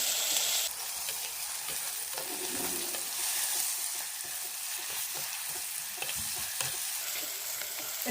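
A chickpea curry base with turmeric and curry leaves sautéed in a pan, giving a bright continuous sizzle broken by irregular stirring scrapes, close and steady, no voices.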